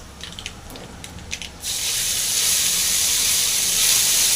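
Mustard seeds spluttering in hot oil while a Tamil pirandai thuvaiyal chutney is cooked, starting with a few sharp pops, then rising after a moment into a loud, steady, close sizzling hiss.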